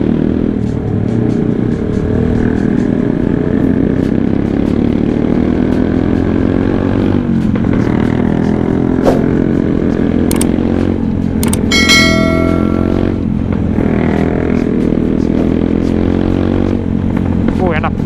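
A motorcycle climbing a rough, badly broken mountain road toward Ciapus, its engine droning steadily and loudly up close, with wind rush, rattles and occasional clinks over it.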